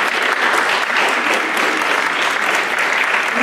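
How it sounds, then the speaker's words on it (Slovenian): Steady, dense applause from a crowd at a University of Primorska scholarship contract signing ceremony, loud and even throughout with no breaks. "en aplavz, prosim"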